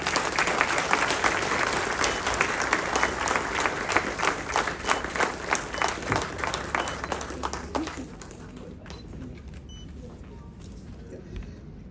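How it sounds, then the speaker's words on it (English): An awards ceremony audience gives a louder round of applause at a road safety event, with dense, sustained clapping for about eight seconds before it stops and leaves a quieter room with light noise. "Can we have a louder round of applause?"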